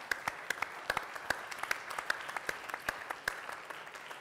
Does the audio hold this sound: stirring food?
no